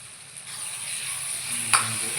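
Pork chukka mixture sizzles steadily in a hot pan as it is stirred, with a single sharp utensil clink against the pan midway through the faint frying hiss.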